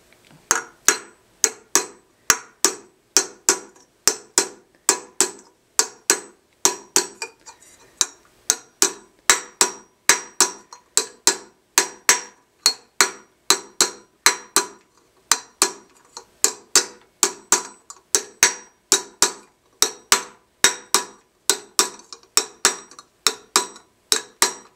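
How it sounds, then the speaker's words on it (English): A raising hammer strikes a copper beaker on a metal stake in steady, ringing metallic blows, close and loud, repeating rhythmically with brief pauses between runs. "I'm going to use the same broader side of the raising hammer and this flat area of the steak."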